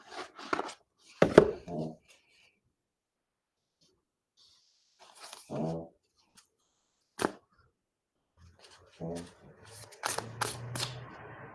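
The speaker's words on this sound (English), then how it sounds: "Well, Chelsea, like 20 cards just fell out." Playing cards spill from a deck in a few quick, papery slaps and flutters, separated by pauses, with a voice talking in between.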